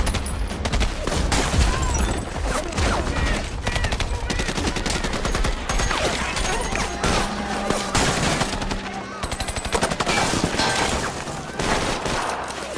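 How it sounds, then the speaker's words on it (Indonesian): Heavy battle gunfire from a war movie about marine snipers, dense rapid bursts and overlapping shots rattling on continuously at high volume with no pause. "Brandon yang sadar pasukan Mayor Rudy mulai kewalahan, ia pun langsung melakukan tembakan vital yang membuat keadaan seketika berbalik."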